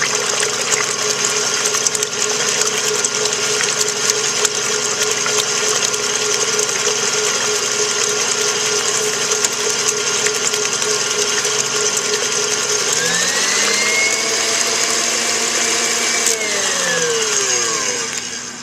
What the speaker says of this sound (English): to beat these until frothy, you turn them on until they kind of look like bubble bath